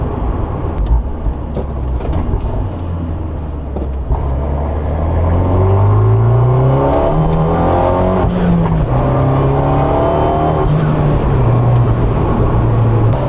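A Fiat 124 Spider Abarth with 4C coil packs and a Phase 2 tune pulls hard through the gears at full throttle, windows open, revving up steadily with rising pitch and shifts, loud and close throughout.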